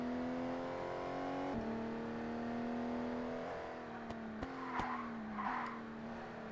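Aston Martin race car in ToCA Race Driver 2, its engine holding a steady drone that shifts pitch through gear changes, with brief tire squeals and skids near the end; no talking.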